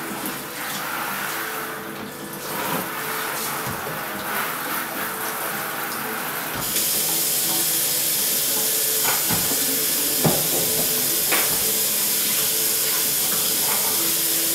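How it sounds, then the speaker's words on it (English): Steady broadband hiss of water spraying, continuous and close, shifting to a brighter, louder spray partway through with a few knocks against a container. "And just try to spray everything down."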